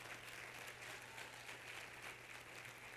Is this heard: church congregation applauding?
yes